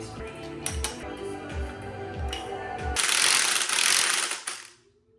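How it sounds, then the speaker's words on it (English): Hand ratchet turning a bolt during a 3.5-inch Rough Country lift install on a 2025 Toyota Land Cruiser, giving repeated rhythmic clicking strokes up close, then a brighter metallic clatter near the end. "Instead of using an impact, I'm going to use just a regular ratchet."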